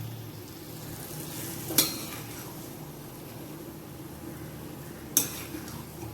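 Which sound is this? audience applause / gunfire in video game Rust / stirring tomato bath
stirring tomato bath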